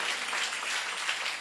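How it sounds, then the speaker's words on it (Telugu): A church congregation at Manna Church in Ongole claps hands together, a dense, steady burst of applause filling the hall without pause. "గట్టిగా చప్పట్లు కొడు ప్రభు నామంలో."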